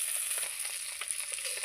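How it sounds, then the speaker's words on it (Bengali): Fish fries in hot oil with onions crisping alongside, a soft continuous sizzle with small crackling pops, fairly quiet and steady with no voices. "প্রায় আমার মাছটা ভাজা হয়ে গেছে"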